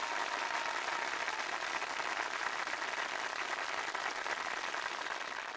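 An audience at a live charity evening event applauds steadily, a dense, even patter of many clapping hands that holds at one level throughout.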